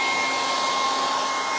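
A hair dryer blows steadily on freshly stenciled brown paint, a loud, even whoosh with a faint motor whine running unbroken from start to finish, no voices.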